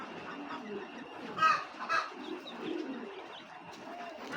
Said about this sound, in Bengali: তো এটা একটা নর কবুতর।